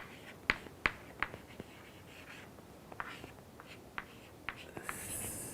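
Writing on a board during an engineering lecture: soft scratches and sharp taps of the pen or chalk come in irregular strokes, quiet and close, with no voice over them.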